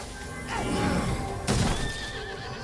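A horse whinnies loudly in an animated fantasy series, with two drawn-out neighing calls sounding close over a busy background of clattering and commotion.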